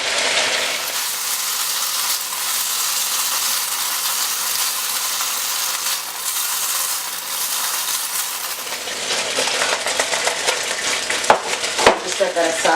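Beef searing in a pan of hot oil, a loud continuous sizzle that turns crackly and spattery toward the end, with a few sharp metallic clinks.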